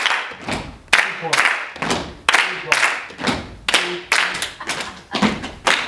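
Hands clap in a steady rhythmic pattern during a movement workshop, sharp claps close and loud, each paired with a softer thump as participants move between beats.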